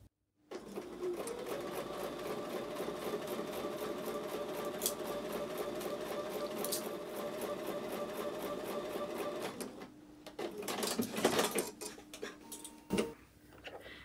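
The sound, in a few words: sewing machine sewing final seam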